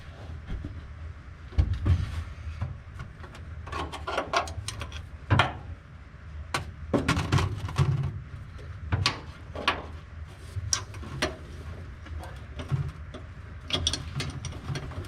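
A ratchet tightens bolts on a muscle car, giving scattered bursts of clicking and metallic clanks, near and moderately loud, with pauses between strokes.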